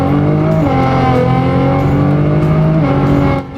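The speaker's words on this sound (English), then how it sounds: "You can hear the clutch slipping here." Nissan GT-R accelerating with a slipping clutch, its engine droning loudly at a sustained high pitch that rises and wavers without gaining speed, heard close and continuous with no talking.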